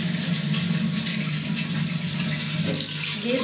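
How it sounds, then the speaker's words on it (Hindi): Water pours steadily from a tap onto a hardened soap dish, a continuous close splashing stream with no talk. "इसको 2-3 मिनट हो गए हैं पानी गिराने को"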